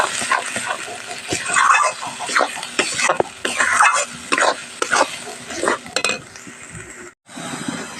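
Fish oil, salt and turmeric fry in a hot pan on the stove. A loud, close crackling sizzle comes with repeated scraping stirs and occasional clinks of the utensil, fading sharply near the end.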